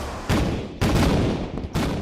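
Wartime naval gunfire and shore shelling, with three heavy, booming blasts spaced roughly half a second apart, each followed by a rumbling decay, loud and without narration.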